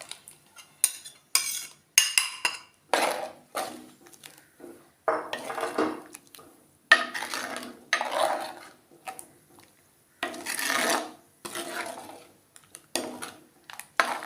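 Ground coconut paste poured into a pot of prawn and drumstick curry, followed by intermittent scraping and clinking of a spoon stirring against the metal pot, in short separated bursts close by.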